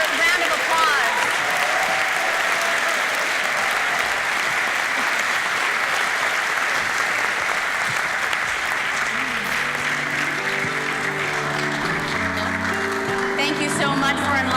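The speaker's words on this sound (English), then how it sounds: "Another round of applause." An audience at a Black History celebration panel event claps in a loud, dense, sustained round of applause that carries on without a break, with faint tonal sounds creeping in near the end.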